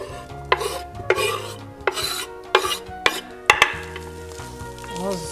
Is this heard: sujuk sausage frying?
yes